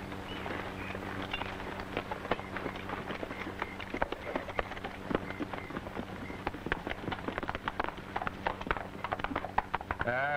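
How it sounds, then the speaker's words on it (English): Horses' hooves clip-clop at a quick, steady gallop in an old Western, a dense run of close, sharp beats that continues throughout with voices faintly underneath. "All right, men, let's get our horses."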